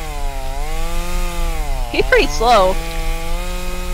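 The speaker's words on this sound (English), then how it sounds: "it's a chainsaw" Chainsaw droning steadily in the video game Escape The Backrooms, a loud sustained engine whine with a slight pitch wobble, while a voice speaks briefly over it.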